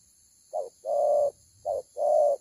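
A spotted dove coos nearby in a clear, resonant rhythm: a short note followed by a longer drawn-out coo, repeated twice, against a quiet background.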